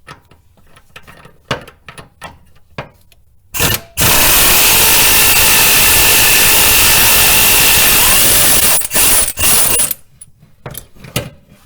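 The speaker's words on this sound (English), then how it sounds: "I'm going to try using this air ratchet here, and I got a 18mm wrench on the other side, using a deep socket." An air ratchet with a deep socket runs loud and continuous for about five seconds, loosening an 18mm transmission mount bolt on a 1999-2004 Jeep Grand Cherokee. Short clicks and taps of tool handling come before and after the burst.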